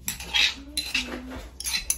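Mashed jujube bhorta being tipped from a bowl onto a plate, with close clinks and scrapes of a spoon against the dishes in short bursts.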